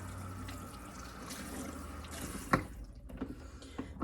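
Tap water runs and splashes softly into a salon shampoo sink as a client's hair is rinsed, faint and steady, with a few small clatters near the end.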